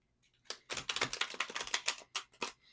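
Tarot cards being shuffled by hand: a crisp burst of papery riffling and flicking, steady and close, lasting a couple of seconds with no talk.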